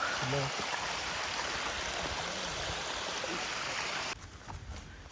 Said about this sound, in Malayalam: ഇതിലൂടെയുള്ള വെള്ളമൊഴുക്ക് നീരൊഴുക്ക് വളരെ കുറവാണ്.